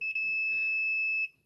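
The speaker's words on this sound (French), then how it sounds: "là, ça sonne. Ça veut dire que le fusible est bon." A multimeter set to continuity mode gives one steady, high-pitched electronic beep of just over a second while its probes touch a good fuse. The beep is close and clear, with a brief dropout near the start.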